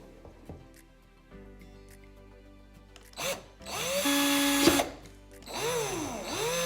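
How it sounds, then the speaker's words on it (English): A power drill boring a tiny hole with a 1/8 inch bit through the tip of a plastic piece for a pendulum pour painting setup, a steady whining burst that rises and falls in two close passes. "we actually are going to have to drill a little tiny hole in the very middle of this here"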